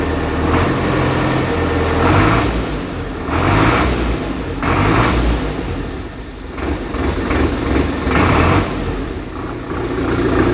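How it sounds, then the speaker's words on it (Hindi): A 2021-model tractor with 1106 hours runs at a tractor market, its engine chugging loud and close with a few revs rising and falling over a steady rumble. "वैसे आवाज़ सुनते हैं इसकी एक बार, अगर स्टार्ट हो गया तो भाई साहब स्टार्ट हो गया एकदम।"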